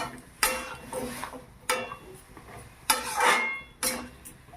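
Potatoes and eggplant stirred in a pan with a utensil while cooking spinach: four or five distinct scraping, clattering strokes spaced about a second apart, close and fairly loud with no talk.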